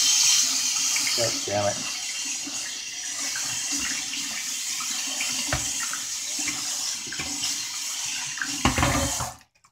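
A kitchen tap runs steadily while a strainer is rinsed under it: a loud, continuous rushing of water with clattering splashes as the mesh is moved, and a man mutters briefly before the flow cuts off at the end.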